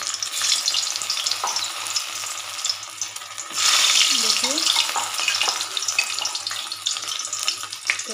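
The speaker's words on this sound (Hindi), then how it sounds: "अभी हम गैस पर तेल, कढ़ाई पर तेल पर गरम कर लिए हैं, अभी हम इसको फ्राई करेंगे।" Cauliflower fries in hot oil in a kadhai on a gas stove, giving a steady, dense sizzle close to the microphone that swells briefly midway.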